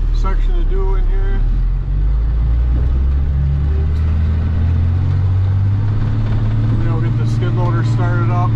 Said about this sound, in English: Skid loader started up.